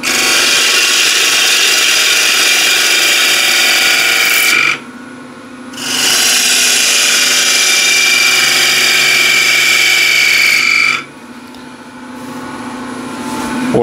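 Wood lathe push cut with a gouge: a loud, steady scraping hiss with a tonal whine, running in two long passes broken by a brief near-silent pause about a second long, then continuing with a slight fade.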